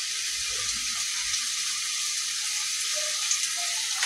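Cooking oil sizzling in a hot pan: a loud, steady, bright crackling hiss that stays continuous throughout, with no talk over it.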